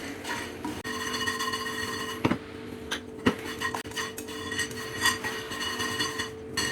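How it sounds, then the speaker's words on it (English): Dal and red chilies dry roasting in a pan, with a steady dry rattle and repeated clinks and scrapes of a utensil against the pan, no talking. "And just dry roast this for a couple of minutes so that the dal becomes crisp."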